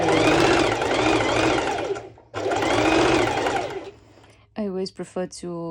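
A sewing machine stitching two layers of lycra runs in two loud bursts at close range, each a rapid buzzing chatter, and then someone speaks briefly.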